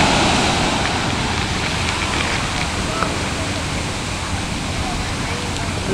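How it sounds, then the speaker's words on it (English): Continuous rushing noise of waves breaking on the shore at Sandy Beach Park, fairly loud and unbroken, with no talking. "And the waves are outrageous."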